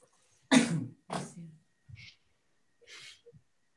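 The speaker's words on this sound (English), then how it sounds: "I didn't sneeze into my elbow" A single person sneezes indoors, a sharp loud burst, then a second forceful expulsion and a few small trailing sounds, with short gaps between them; nobody talks.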